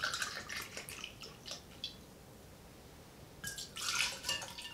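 Gin being poured into a cocktail shaker for a shaken gin cocktail, with faint liquid trickling and dripping in two short bursts separated by a quiet pause, close to the listener.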